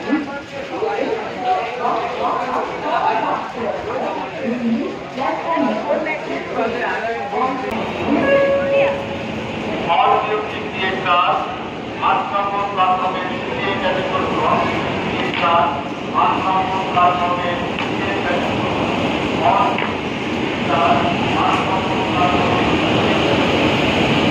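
Platform fourteen at Howrah railway station is busy: train and carriage rumble and a constant crowd murmur fill the scene, and people talk nearby the whole time.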